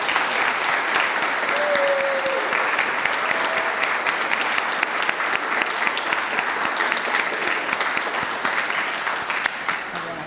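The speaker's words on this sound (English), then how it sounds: "Let's give them all a round of applause." An audience at an employee awards ceremony gives a round of applause, steady dense clapping from a large crowd that holds for about ten seconds, with a voice briefly audible over it.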